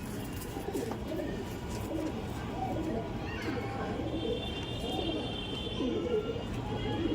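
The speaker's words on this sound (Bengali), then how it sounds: "এই ছিল মাদি পায়রাটা দেখুন, লাল ফুল ছিল, লাম্বারি পায়রা" Lambari pigeons cooing in a loft, soft repeated low coos over a steady background hum, with faint chirps and a voice speaking intermittently.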